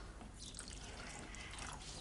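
Wine mixed with water poured into a cooking pot holding a bay leaf, a steady close splashing trickle running for about two seconds with no talk over it.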